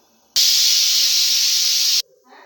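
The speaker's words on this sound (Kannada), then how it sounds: "ಇವಾಗ ಒಂದು ವಿಷಲ್ ಬಂದಿದೆ, ನಾನು ಸ್ಟವ್ ಆಫ್ ಮಾಡ್ಕೊಳ್ತಾ ಇದ್ದೀನಿ." A pressure cooker whistle on a stove, cooking a vegetable and greens sambar, lets out one loud, steady steam hiss for about a second and a half before cutting off abruptly, with quiet kitchen sounds on either side.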